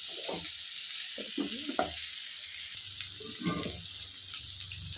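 Cluster beans (goru chikkudu kaya) frying village-style in a pan, a continuous hiss and sizzle with soft stirring scrapes and muffled knocks running underneath.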